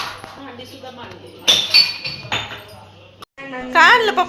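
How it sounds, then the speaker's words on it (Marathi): Dishes clink as they are set out, with a few sharp clinks and rattles heard close up between bits of talk. "भांडी सुद्धा मांडली."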